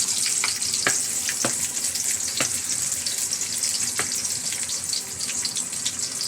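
Garlic sizzles in hot oil in a pan while cooking sautéed bottle gourd with misua and sardines. A steady, close, hissing fry runs throughout, broken by a few sharp utensil clicks.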